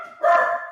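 A dog barks once, a short loud yelp-like bark standing out briefly against a quiet background.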